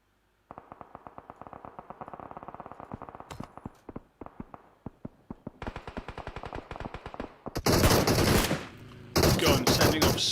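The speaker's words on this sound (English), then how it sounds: "Gun sending off so many shots." Rapid automatic gunfire in a PUBG Mobile match, long crisp bursts of fast rhythmic shots growing louder, ending in heavy dense volleys with explosive bursts, caster commentary faintly present.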